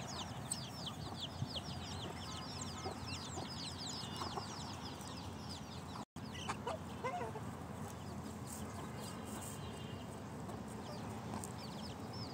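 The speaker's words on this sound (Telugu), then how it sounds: "ఇదొక కోడి, దాని పిల్లలు. బ్లాక్ కోడి, దాని పిల్లలు." A black hen clucks softly while she and her chicks feed on scattered grain at a country chicken farm. Faint, high chick peeps run throughout under a quiet, steady outdoor background.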